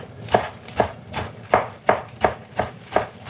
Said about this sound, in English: So we're nearly coming to the end of the chopping process.